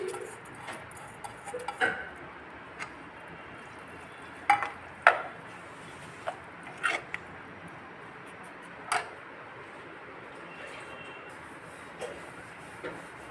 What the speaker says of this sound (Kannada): ಮತ್ತು ನೀರು ಮಿಕ್ಸ್ ಮಾಡ್ತಾ ಇದ್ದೀನಿ